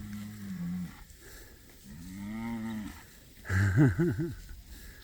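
Cattle mooing close by, several long, deep lowing calls in a row, one louder and wavering toward the end, with no talking.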